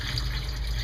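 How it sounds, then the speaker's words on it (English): Running water rinsing sprouting seeds in a jar while making rejuvelac, a steady close splashing and pouring that continues without a break. "So you take out the cover and you rinse the seeds."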